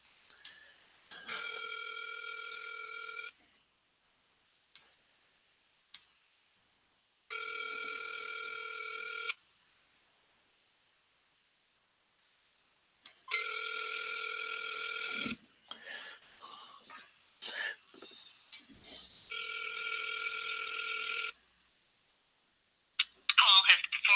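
An outgoing cold call to a phone line rings back in four evenly spaced two-second bursts separated by silence, with brief clicks and line noise near the end.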